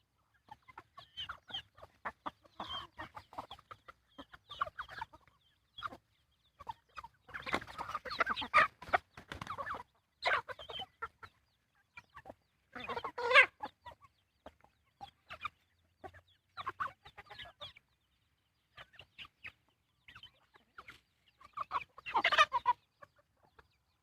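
Free-ranging farm chickens, including hens with chicks, cluck at evening feeding in Thailand: bursts of close, busy clucking come and go in clusters across a quiet background, with no talking.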